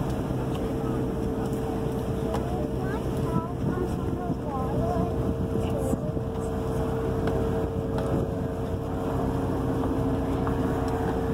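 A tour boat's steady, low engine drone on Plymouth Harbor, Massachusetts, with broadband rumble and wind noise throughout, and faint voices murmuring in the background.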